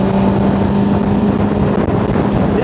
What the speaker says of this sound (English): It is a nice exhaust, it's loud.